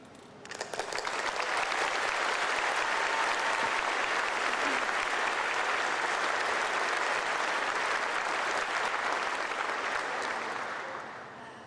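Warm applause for a speaker at an address to US troops in the United Kingdom, a dense, even patter of many hands clapping that swells quickly, holds steady and then fades out.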